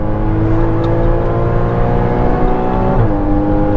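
Loud, steady drone of a Porsche Cayman GTS (981) engine under power on a race track, heard from inside the car, the pitch holding high with a slight shift near the end.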